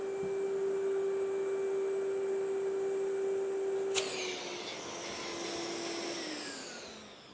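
A vacuum pump evacuates a bag clamping a wood gluing form, giving a steady, loud, droning hum with a sharp click partway through, after which a hissier, whining tone continues alone.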